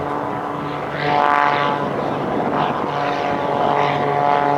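A Bulldog propeller aircraft flies overhead at an airshow, its engine drone steady and fairly loud throughout, swelling slightly as it passes with a broad rumbling tone and no voices.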